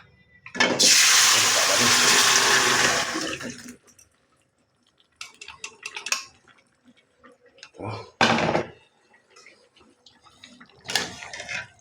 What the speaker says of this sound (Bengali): মাংসটা ঢেলে দিব আর কি